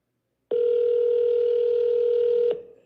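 A telephone line on an outgoing call gives one steady, continuous tone that lasts about two seconds and then cuts off sharply. The tone is clear, close and alone, with no voices over it.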